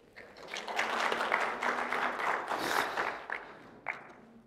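An audience at a home-care centre results-sharing event breaks into applause to welcome a speaker, a dense burst of clapping lasting several seconds that fades out with a few final claps.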